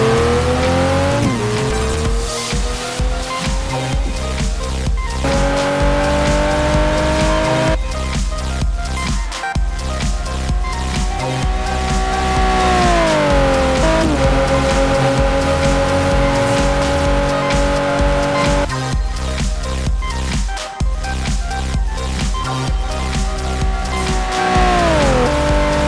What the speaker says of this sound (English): Finally, the Lamborghini.